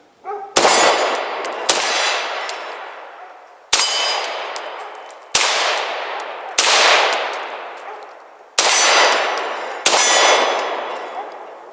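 Beretta M9A3 pistol rounds striking a steel silhouette target: seven sharp metallic clangs at irregular intervals, each ringing and decaying loudly, with no talking.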